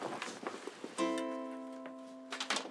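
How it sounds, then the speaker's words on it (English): A darbuka drum being unpacked and handled, with a brief ringing tonal hum that rises around the middle and fades slowly, set among soft rustling and knocking handling noises, close and fairly quiet. "That's the sound of unpacking a darbuka"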